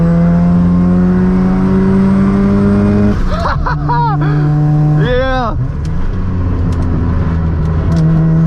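Mazda RX-7 FD rotary engine pulling hard on an uphill mountain touge run in hot weather: a loud, close, steady drone that climbs through rising revs and shift changes, with no talking.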